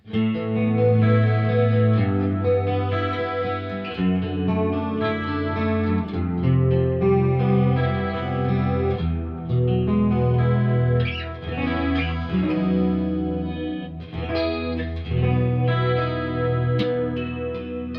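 Electric guitar with a split coil-tap pickup tone plays a continuous, flowing passage of chords and notes with a bright, slightly hollow tone and a touch of shimmer, steady and fairly loud.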